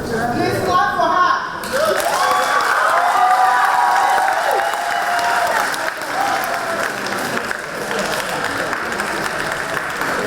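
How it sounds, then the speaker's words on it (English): An audience claps loudly for a youth performer at a community performance and entertainment event, dense applause building after a brief voice at the start and continuing steadily with some background chatter. "Please clap for her."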